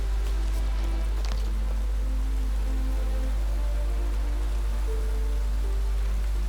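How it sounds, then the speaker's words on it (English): Steady rain falling in The Witcher 3, a dense even hiss of drops on surfaces with a faint tonal game ambience underneath and no voices. "Looks like rain."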